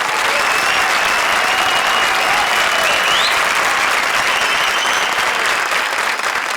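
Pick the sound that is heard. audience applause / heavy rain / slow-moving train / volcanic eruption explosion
audience applause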